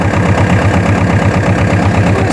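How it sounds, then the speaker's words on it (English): A tractor engine runs steadily at a distance outdoors, a loud, even, rhythmic chugging throb that continues without a break and with no voices. "We started the tractor a long way off."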